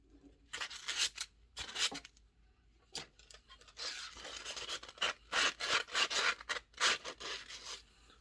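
Sandpaper rubs the rust off an axe head in harsh, gritty strokes, at first in short separate bursts and then in a quicker run of repeated scrapes, close and fairly loud.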